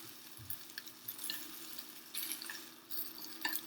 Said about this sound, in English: putting some of that bacon in the pan like you would with butter, and you just kind of let it